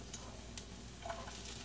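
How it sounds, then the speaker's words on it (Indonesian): Garlic stir-fries in hot oil in a home kitchen, giving a faint, steady sizzle with a few light stirring clicks and scrapes. "Ini aku udah nyiapin minyak panas ya. Sekarang aku mau tumis dulu bawang putihnya ya teman-teman."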